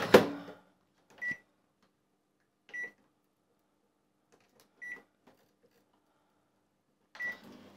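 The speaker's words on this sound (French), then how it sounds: "Alors moi, le chocolat, pour le faire fondre, je le fais au micro-ondes." Microwave oven melting chocolate at 600 watts, heard as a thud then a handful of short electronic beeps at intervals, fairly quiet, with no talking.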